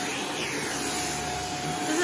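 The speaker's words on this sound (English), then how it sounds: "I love this hoover so much, or vacuum, whatever I should call it." A Shark vacuum cleaner runs at close range during household cleaning, giving a loud, steady, unbroken whine and rush of air that holds level throughout.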